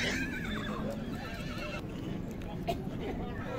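A horse whinnies loudly at a livestock horse market in Jumgal, Naryn, a long wavering neigh close by, followed by hoof clops and market bustle while people talk nearby.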